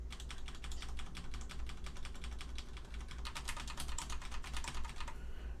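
Rapid, steady keystrokes on a mechanical keyboard fitted with Cherry MX Red switches, close and clear, a continuous flurry of clicks with no voices.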